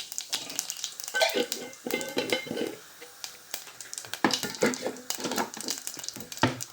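Cumin seeds crackle and sizzle in hot oil with busy popping, mixed with a spoon stirring and scraping against the pan, close up.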